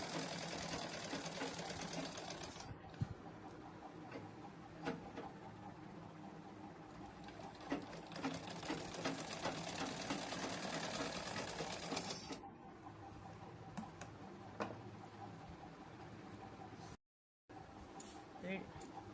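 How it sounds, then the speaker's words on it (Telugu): A sewing machine stitches the puff sleeve of a blouse, running in a steady close whirr with small clicks and brief pauses, while someone talks over it at times. "బుట్ట చెయ్యి ఒకేసారి 2 మడతలుగా నీట్గా కుట్టుకోవాలి."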